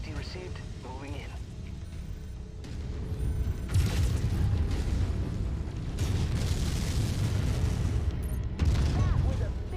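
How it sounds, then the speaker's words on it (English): A large explosion in the mech combat game Mechwarrior 5: Mercenaries erupts in a dense, rumbling roar with crackling bursts and continued booming gunfire, loud and sustained, with radio voices under the din. "That was a big explosion."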